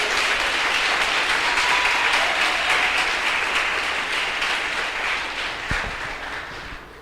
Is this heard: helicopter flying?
no